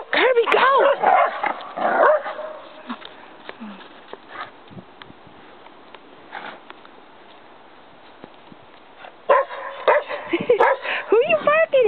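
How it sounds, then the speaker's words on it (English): Dogs barking and yipping outdoors in snow, loud bursts at the start and again near the end with a quieter stretch between, a person talking over them. "Who are you barking at?"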